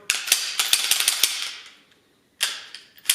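Taurus G3 Tactical pistol being checked and cleared: a quick run of close, sharp metallic clicks and slide clacks, a short pause, then a few more snaps, with no talk.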